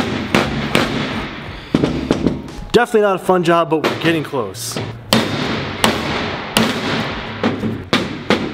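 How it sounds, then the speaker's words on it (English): Sharp metallic hammer strikes ring out one after another at an uneven pace as a ball joint is hammered into a Honda S2000's suspension, with people talking in between the blows. "I gotta hammer it in too"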